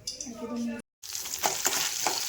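Grated coconut roasts in hot coconut oil in a pan, giving a soft frying sizzle with scraping stirs; a short break of silence interrupts before the crackling resumes, fairly quiet overall.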